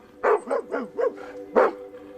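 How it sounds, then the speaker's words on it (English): A dog barks in a quick series of five sharp barks, then one more after a brief pause, loud and close with no other sounds. "he hears the family dog, Shasta, barking and responds by barking back"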